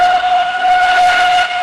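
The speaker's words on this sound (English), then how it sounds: "Whistled Edward." A loud, sustained steam locomotive whistle blows close by, a bright steady tone held without a break.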